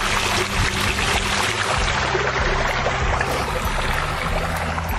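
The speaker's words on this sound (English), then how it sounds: "we're just rinsing this down, doing some final touches on the sides" Water rushing and splashing as a newly built backyard pond is rinsed down, a loud, continuous wash of spray and flow close by.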